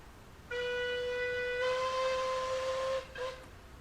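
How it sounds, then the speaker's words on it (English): In a train simulator game, a steam locomotive whistle gives a loud sustained blast that swells fuller partway through and then stops, followed quickly by a short second toot, all alone without talk. "The whistle for when you have to tab past the signal."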